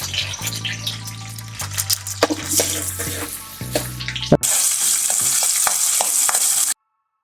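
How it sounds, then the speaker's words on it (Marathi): Onion frying in hot oil in a pan, a bright sizzle under clattering stirring and a low background hum, growing louder and steadier before cutting off abruptly. "तेल गरम झालं की लगेच आपल्याला कांदा थोडासा ब्राऊन करून घ्यायचा आहे."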